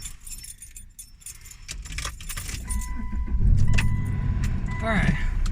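Car keys jangle and clink in a close metallic rattle while someone gets into a car on a morning commute, with engine rumble and road noise building underneath and a voice speaking briefly.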